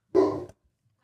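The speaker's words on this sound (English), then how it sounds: "stop barking" A single short, close bark from a dog, sharp and clear, followed by silence.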